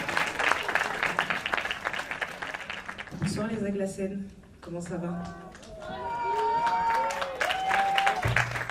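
Applause and cheering from a concert crowd at the Agla'Scènes show as a band takes the stage, fading as a voice greets the audience over the mic and the room settles.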